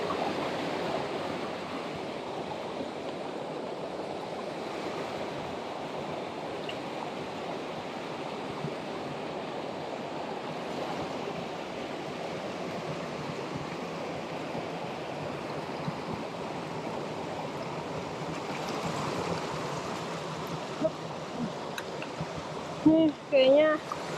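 A mountain stream on a hiking trail runs in a constant, full rushing wash while shoes are rinsed in it, close and loud throughout, with a few brief splashes and knocks near the end.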